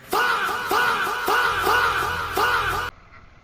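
Ducks quacking on a road, a run of about five loud, close, raspy quacks in quick succession with no voices, ending abruptly.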